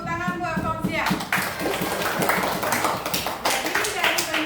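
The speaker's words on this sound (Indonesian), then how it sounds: "Tepuk tangan buat Fauziah." Classroom clapping for a student, a burst of many hands clapping fairly close, starting after a brief voice and continuing steadily for a few seconds.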